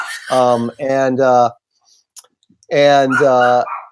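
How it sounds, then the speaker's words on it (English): Two bursts of loud, close dog barking, a pair of harmonic yelps, a pause with faint clicks, then another pair of barks. "There's my dog barking."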